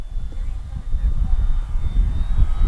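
Arrows RC P-51D Mustang model airplane flying in wind: a thin, steady motor whine rides over loud, continuous low wind buffeting and rumble.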